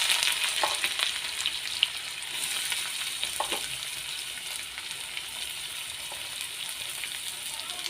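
Chopped onions sizzle steadily in hot oil along with tempering seeds for a Telangana-style dry fish curry, a continuous close crackle broken by a few soft spatters or stirs.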